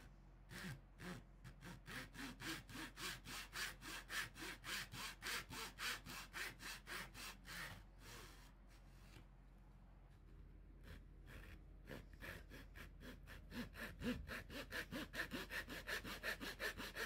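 A hand saw cuts fret slots into a wooden fretboard for a cigar box guitar, using blue tape as a depth gauge. It gives a steady, rhythmic back-and-forth rasp of close strokes, pausing briefly midway before resuming.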